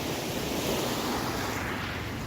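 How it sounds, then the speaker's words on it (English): Waves breaking and washing up a Hawaii beach, a continuous close roar of surf with some wind noise and no voices. "I sort of have to time my walking in between waves"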